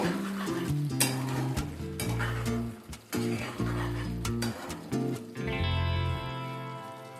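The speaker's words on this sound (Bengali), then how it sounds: "এবার মিশিয়ে নেব।" Spiced amla (Indian gooseberry) pickle being stirred in a pan, with thick, rhythmic scraping and knocking of the spoon against metal over faint sizzling, close and continuous.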